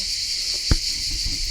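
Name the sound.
crickets chirping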